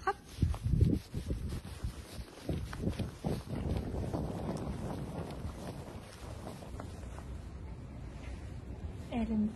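Wind rushes steadily with a low rumbling buffet against the microphone, continuous throughout, with occasional faint knocks and movement in the background.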